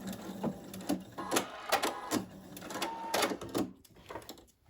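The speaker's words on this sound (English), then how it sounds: "I'm going to lock off my stitch." A sewing machine locks off a stitch in several quick clattering bursts and stops, then falls quiet near the end.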